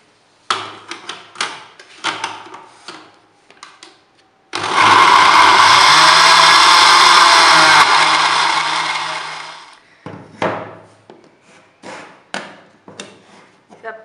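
An electric blender grinds boiled chickpeas and potatoes with a little water into a paste, a loud continuous whir lasting about five seconds, framed by clattering knocks and handling noises before and after.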